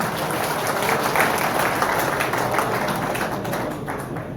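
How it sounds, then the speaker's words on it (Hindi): A large crowd at a village outreach rally in Ramgarh applauds the chief minister, dense and continuous clapping that stays loud throughout and tapers slightly at the end. "तालियां बजाएं"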